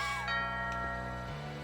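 A doorbell chime in the video game What Remains of Edith Finch, a sustained, ringing tonal note with gliding pitch changes that fades slowly against a quiet background, no talk.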